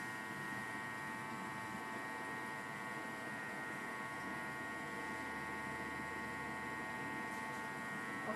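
A Thermomix TM6 runs steadily while finely chopping lemon zest, a faint, even electric motor hum with a whirring buzz that holds unchanged throughout.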